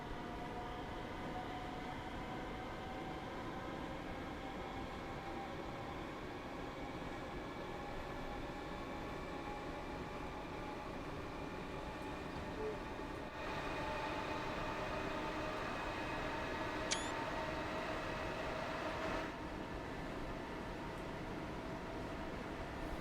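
Steady rumble of a Class 323 electric train running in Train Sim World 3, a continuous low drone with faint tonal whine, loudening slightly midway with a brief sharp click near the end, no voices.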